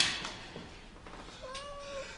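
A house cat meows once, a thin drawn-out cry heard at moderate distance in a quiet indoor room, with no talking over it.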